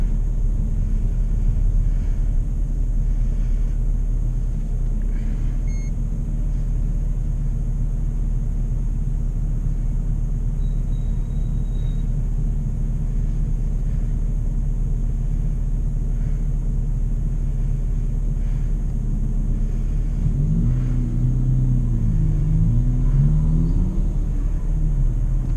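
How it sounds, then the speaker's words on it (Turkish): A VW Arteon R-Line with a 2.0 TDI 240 HP diesel engine revs at half throttle, a steady deep rumble that rises and wavers near the end. No one speaks. "Yarım gaz modu arkadaşlar. Hani yarım gazda bile oldukça güzel devirleniyor."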